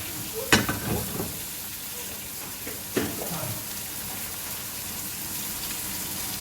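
Baby gem lettuce and onions with oil, salt, pepper and balsamic sizzle steadily on a grill, a continuous close hiss with a few louder pops and crackles near the start.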